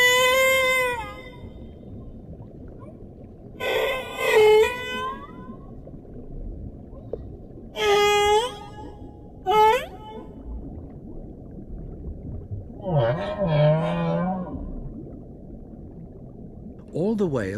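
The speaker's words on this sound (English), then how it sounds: "All the whales in each ocean sing the same song." Humpback whales sing in the open ocean, several drawn-out moaning and rising calls separated by pauses, with a few louder wavering cries and a constant low underwater rumble beneath them.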